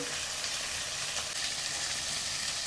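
Garlic cloves fry in oil with cumin seeds, black peppercorns and tomato, giving a loud, steady, close sizzle with no voices over it.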